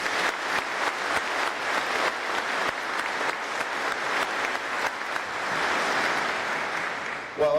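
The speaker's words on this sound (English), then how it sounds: "A big round of applause for all you do." Applause for fire departments at a middle-high school graduation ceremony, sustained crowd clapping that stays steady and fairly loud throughout.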